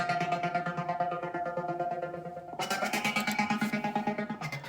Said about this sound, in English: using a short transient envelope around 30 to create stuttered 16th note,